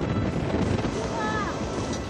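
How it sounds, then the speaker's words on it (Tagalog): Large waves pounding the shore during Typhoon Marce in Cagayan, a continuous loud surf roar mixed with heavy wind buffeting, with no clear individual crash standing out. "na sinabayan ng paghampas sa malalaking alon sa baybayin"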